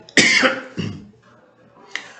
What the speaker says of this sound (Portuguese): Desculpa, eu vou tossir.